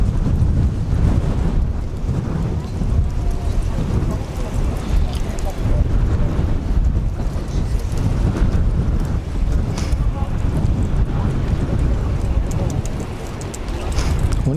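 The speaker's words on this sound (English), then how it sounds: "Big old breeze compared to what we had earlier." A strong, gusty breeze roars steadily across the microphone at Zurich Kloten Airport as a weather front moves in, a loud, broadband rush with no talking.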